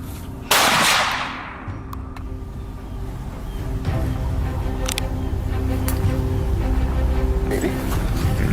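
A single sharp gunshot cracks out during a wild boar hunt outdoors, loud and close, then rings off into a low rumble as people talk afterward.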